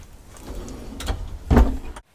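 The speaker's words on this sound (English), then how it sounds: "this middle sliding drawer is for our hygiene and cosmetic things" A middle sliding drawer in a DIY Ford Transit van conversion rolls along its runner and closes with a firm thump, a short scrape then a solid knock, close and with no talk.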